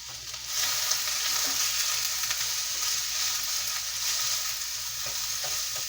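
Food sautés in a hot pan while a stuffed pork loin dish is prepared, giving a continuous, even hiss and sizzle that begins abruptly and holds steady at close range, with no voices.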